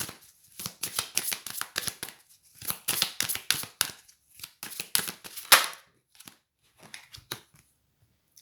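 Tarot cards are riffled and shuffled in quick, crisp bursts of flapping snaps, loud and close, then trail off into a few sparse taps near the end.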